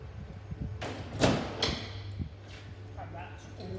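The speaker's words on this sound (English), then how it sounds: "bring this door in" A side door on a Debon C500 box van trailer swings shut with a firm thump near the middle, followed by a second lighter knock and faint rattles, over low background hum.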